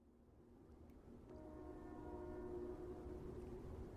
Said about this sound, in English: Okay, that sounds like a train.